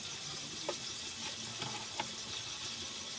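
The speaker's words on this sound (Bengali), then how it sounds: "আর জিরের গুঁড়ো হাফ টিস্পুন দিয়ে ভালো করে ওটাকে কষিয়ে নেব" Salt, turmeric, coriander powder and cumin powder sauté with cabbage in a frying pan, a soft, steady sizzle with a few faint clicks of stirring, quiet and with no voices.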